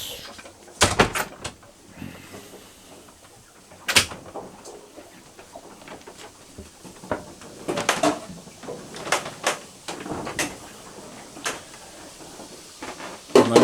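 Wooden junk drawer aboard a sailboat opened with several sharp knocks and slides, followed by scattered rummaging clatter of loose items, close and moderately loud.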